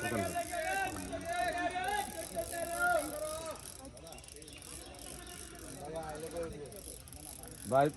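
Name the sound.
fishing reel line being pulled out by a fish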